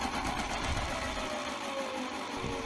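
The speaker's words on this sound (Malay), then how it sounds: "Mesin basuh juga akan kelihatan sedikit bergegar ketika putaran mesin basuh agak laju." A washing machine drum spins fast, giving a steady, loud mechanical whir with a rattling, shaking hum that holds constant throughout without any talk.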